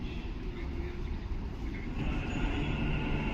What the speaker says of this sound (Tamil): சரி, மெட்ரோ வந்தாச்சு.